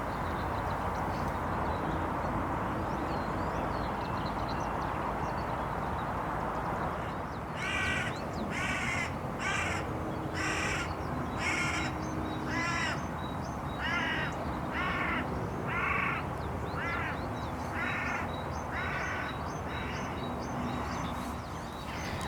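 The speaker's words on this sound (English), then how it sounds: "Yes, the crows came back" Crows caw repeatedly, a dozen or so harsh calls in a loose rhythm, over a constant rushing background noise.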